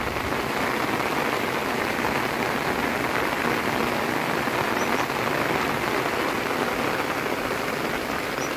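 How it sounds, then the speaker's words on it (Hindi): Heavy rain pours down steadily, a dense, loud hiss of drops beating on surfaces with no letup and no voices. "बहुत तेज़ बारिश हो रही है इस समय।"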